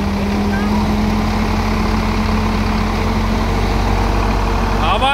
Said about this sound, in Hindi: ये देखो टर्बो चार्ज इंजन है इसमें, इसलिए इसकी आवाज़ बहुत कम है भाई।